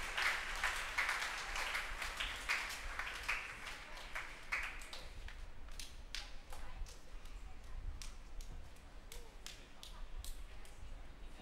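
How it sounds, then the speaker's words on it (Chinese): A church congregation at Christmas Day Mass applauds to welcome four newly baptised infants, a faint, scattered patter of clapping with sharp individual claps that thins out over several seconds, heard at a distance. "让我们以掌声欢迎这四位新加入我们大家庭的这四位"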